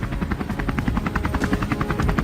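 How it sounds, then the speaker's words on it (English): Helicopter rotor blades thump in a fast, even rhythm during flight at the start of a wild boar hunt, a close, loud and continuous chopping with a high whine above it and no voices. "The sound of helicopter blades cuts through the air, the signal that the hunt is officially underway."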